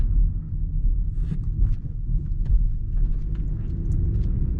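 A 2019 BMW X3 xDrive30i rolls over speed bumps in a plaza parking area, heard from inside as a steady low rumble with soft, muted thumps and no talking.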